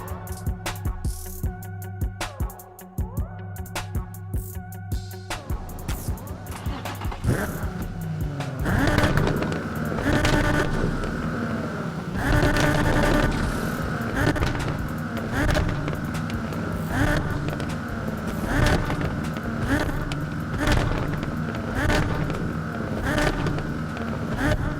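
A Nissan 350Z engine roars during Bayview night street racing in the video game Need for Speed Underground 2. After a tonal, music-like opening, a loud, steady engine drone takes over with repeated surges, close and continuous.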